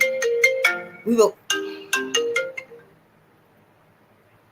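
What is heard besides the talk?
mobile phone ringing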